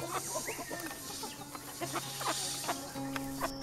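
Chickens clucking inside a chicken coop, several birds making short overlapping clucks and calls close by, with a steady low hum underneath.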